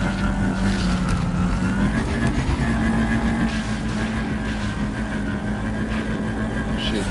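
A vehicle engine drones steadily in No Man's Sky, a loud continuous hum with a tonal whine shifting slightly in pitch, lasting throughout under a noisy mix.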